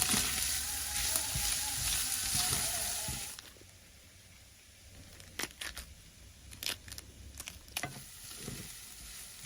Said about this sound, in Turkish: Ve kavurmaya devam ediyorum. Orta ateşte.